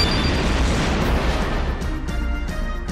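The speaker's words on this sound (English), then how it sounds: "it just freaking explodes" A charge-shot explosion in Dynasty Warriors Gundam Reborn at point blank: a dense, loud booming roar that fills the whole stretch, thick low rumble with crackling debris and no break.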